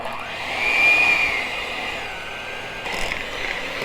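An electric mixer whirs steadily while beating two blocks of room-temperature cream cheese for a no-bake cheesecake, then its pitch shifts briefly near the end.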